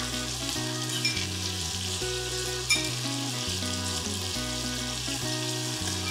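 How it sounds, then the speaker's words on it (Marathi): Onion softening in hot oil in a pan with a pinch of salt, a steady close sizzle and crackle of frying running the whole time, with faint stirring and no talking. "आता हे करूयात मिक्स आणि कांदा मस्त असा मऊ होईपर्यंत शिजवून घेऊ।"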